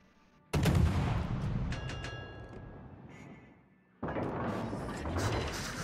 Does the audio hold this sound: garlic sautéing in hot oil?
no